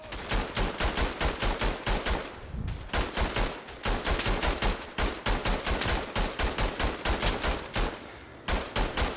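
Rapid, sustained machine gun fire in the World War I shooter Verdun, loud and close, with dense bursts of shots in a fast rhythm broken by a few brief pauses, and no talking.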